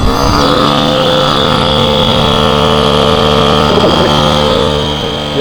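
Two electric air pumps running together while inflating drop stitch SUP chambers, a loud steady motor drone with layered whining tones that holds continuously and eases slightly near the end.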